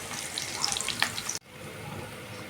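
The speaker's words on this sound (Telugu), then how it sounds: "ఎగ్స్ వేసుకొని ఈ విధంగా కలుపుకుంటూ ఉండాలండి మధ్య మధ్యలో" Eggs fry in a hot pan while being stirred, giving a steady close sizzle with scraping spoon clicks and an abrupt brief dropout partway through.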